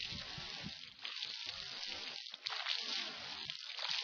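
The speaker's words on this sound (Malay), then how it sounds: "Membersihkan hidung dengan air." Water drawn into the nose and blown back out during ablution before prayer, close sloshing and splashing with a brief dip partway through, no voices heard.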